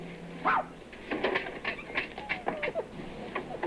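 A dog gives short yips and whimpering barks in a scattered rhythm, moderately close, with bird-like chirps and a faint background hum but no talking.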